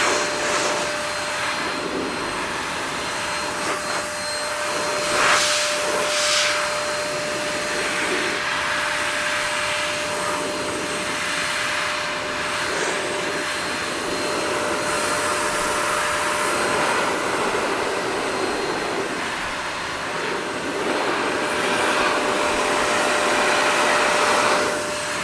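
A blower roars continuously at close range, drying off a freshly cleaned car wheel in a steady loud rush of air with slight surges and no speech.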